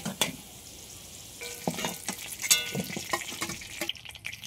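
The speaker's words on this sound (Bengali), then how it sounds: "আলুগুলো ভাজা হয়ে গিয়েছে" Potatoes fry in hot oil over a village clay stove, with a close, steady sizzle broken by irregular scraping and clinking as they are stirred and lifted out, and no talking.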